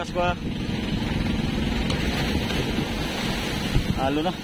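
Ocean waves and surf roll steadily under strong wind buffeting the microphone aboard a small fishing boat on the Pacific, with brief voices at the start and end.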